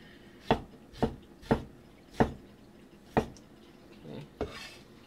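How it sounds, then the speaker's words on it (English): A knife chops ginger on a cutting board for a shrimp and cabbage dish, giving about seven crisp, evenly spaced thuds at close range with a quiet background and no talking. "So let's cut some ginger."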